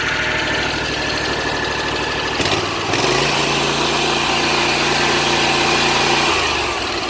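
Twin-cylinder lawn mower engine running on both cylinders, a close, steady mechanical drone whose pitch and pulsing shift partway through as the engine settles into a smoother, firing rhythm.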